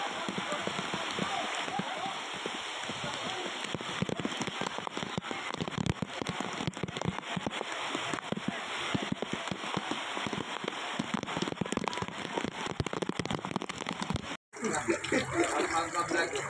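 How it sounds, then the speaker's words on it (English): Steady rain patters and splashes on hard surfaces nearby during a fiesta celebration in Apalit, Philippines, a constant dense hiss with scattered drips, with faint voices mixed in. "it rained for maybe 30 minutes or 45 minutes on the Fiesta celebrations"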